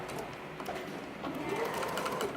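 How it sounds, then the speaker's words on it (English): A sewing machine stitching pom-pom ribbon onto a scarf, a close, steady rapid whirring hum with a fast mechanical chatter, running continuously. "You just need to make sure that you're sewing down the middle of the pom-pom ribbon"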